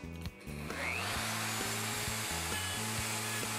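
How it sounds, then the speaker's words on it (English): A plunge router cutting a tenon in wood using a Leigh FMT Pro mortise and tenon jig, a loud steady high whine that starts up and runs continuously, close by with no talking. "Plunge the router and route the tenon."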